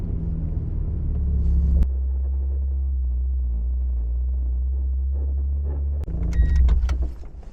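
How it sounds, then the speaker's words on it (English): A Mazda Miata drives with a constant low engine rumble, a dipstick rattling against the headers, and brief higher mechanical noises near the start and end. "My dipstick is currently rattling against my headers, and it's making a constant noise while I'm driving."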